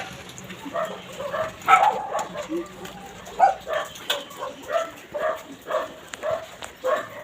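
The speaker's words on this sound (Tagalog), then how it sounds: "Mga shih tzu." Small shih tzu dogs yap repeatedly in short bursts at a steady rhythm, with voices talking faintly in the background.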